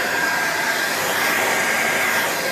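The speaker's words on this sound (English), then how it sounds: "if you've got an old hairdryer, you can dry it off fairly rapid" An old hairdryer blows hot air onto fresh paint on a repaired Briggs and Stratton 10hp mower exhaust, giving a steady, loud, unbroken whir with a breathy hiss, close by and alone.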